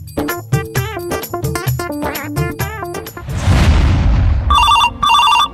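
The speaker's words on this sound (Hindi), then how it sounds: "रोहित तेरे पापा का फोन आ रहा है।" A telephone rings with an incoming call, its electronic ringtone chiming loud and close in repeated bursts over music, with a booming, rumbling passage midway before the ringing resumes.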